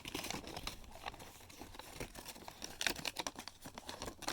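Origami paper being creased and unfolded while folding a pyramid fidget toy, heard as close, soft crinkling and crackling with brief sharper rustles scattered irregularly throughout.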